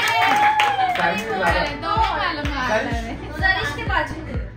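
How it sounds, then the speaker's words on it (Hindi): A small group claps for a child receiving an Eid money gift at a home gathering. The claps come in a steady, evenly spaced rhythm of sharp hand strikes from about halfway in, under lively children's chatter and talking throughout. "जोरदार तालियां"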